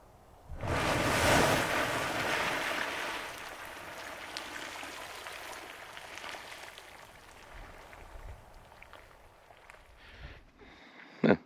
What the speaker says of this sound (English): It's cool how much water comes out because it like makes a wave around the whole outside